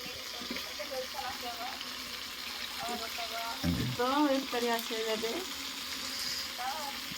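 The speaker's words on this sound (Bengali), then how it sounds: "এই বলে মাংস উঠে দিচ্ছে মশলা কষানো হলো এখন বতকের মাংস কষাবে" Duck meat dropped into a pan of spices fried in oil, sizzling and frying steadily with stirring and clattering in a home kitchen; voices chatter faintly alongside.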